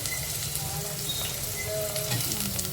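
Dried bombil (Bombay duck) fish fry and crackle in hot oil in a pan as they are stirred, a dense, steady sizzle close up with no talking.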